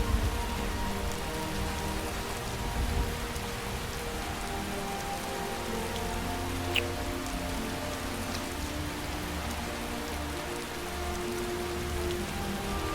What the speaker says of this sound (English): Listen to that storm, isn't that awesome?